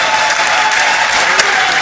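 A large audience claps loudly and continuously at the close of a qawwali program, a thick wash of applause with one sharper clap standing out.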